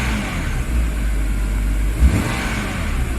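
A 2006 BMW E90 sedan engine, just repaired after misfiring coil packs, hums steadily up close with a dense broadband rumble and a brief rise in revs near the middle, no talking.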